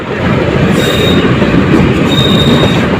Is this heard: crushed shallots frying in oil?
no